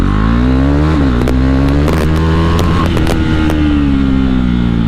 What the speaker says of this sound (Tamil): ஸோ வந்து ரன்னிங்கில் காமிக்கிறேன் எக்ஸாஸ்ட் நோட் எப்படி இருக்குன்னு சொல்லிட்டு.